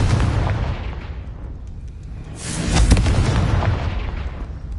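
A Confringo blasting spell in Hogwarts Legacy goes off as a loud, rumbling explosion, a sustained roar that swells to a sharp peak midway and then tails off noisily.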